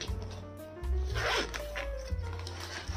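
A zipper on a small front pocket of a budget backpack is pulled open in a few quick, close rasping strokes, with a faint low hum underneath and no talking.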